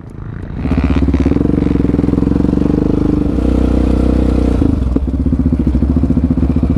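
A Yamaha Raptor ATV engine revs hard and steadily as the rider rides nearby, a loud, continuous buzzing roar with a brief dip near the end.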